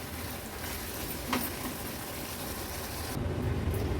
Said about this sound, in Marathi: गॅसची फ्लेम हाय करूया हाय फ्लेमवर एक छानशी ह्याला उकळी काढून घेऊया